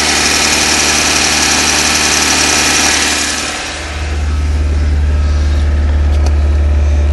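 A 1992 Honda Prelude with a swapped JDM H22A engine runs loudly and steadily, its rough high whine dropping into a deep, even idle rumble that holds close and constant.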